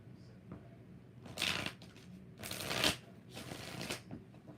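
Tarot cards are shuffled by hand in several soft riffling bursts, close but faint, with no one talking.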